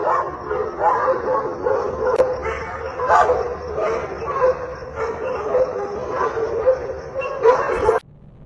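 Several dogs bark and yip repeatedly in a steady, excited run, with some whimpering mixed in, fairly loud and close before cutting off abruptly near the end.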